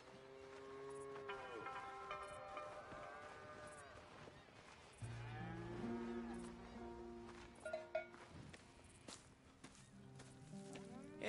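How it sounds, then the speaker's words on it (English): Cows moo repeatedly at moderate distance in Red Dead Redemption 2, long drawn-out calls overlapping, with faint footsteps and soft ambient noise around them. "Here's the cows."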